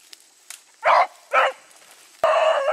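A dog chasing rabbits through thick cover gives two quick, loud barks, then a longer drawn-out bark, close by over a quiet background.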